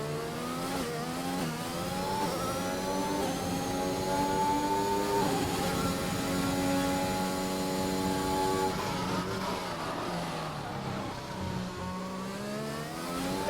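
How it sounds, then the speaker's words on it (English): Williams racing car engine echoing through the Monaco tunnel in a racing video game: a steady, high-pitched whine climbing through the gears with short shift dips, then easing off near the end, continuous and fairly distant, with no talking. "as we ride on board the Williams car, listen to the engine as he goes through the tunnel"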